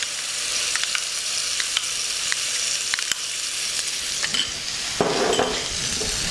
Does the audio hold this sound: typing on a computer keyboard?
no